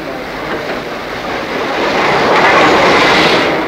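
The North Britain train rolls into York on the rails with a building rumble and rushing rattle, growing louder as it draws near, no voices.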